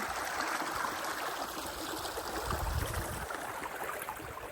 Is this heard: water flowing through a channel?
yes